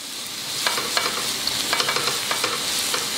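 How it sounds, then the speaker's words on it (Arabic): Onion with a little salt fries in a pan while being stirred, a soft continuous sizzle broken by a series of light scraping strokes and taps, close by. "نضيف عليه قليل من الملح، وغادي نخدموا هذه البصله هذه ما نخليوهاش تحرق"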